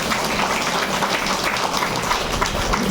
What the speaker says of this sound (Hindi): ताली बजा थोड़ा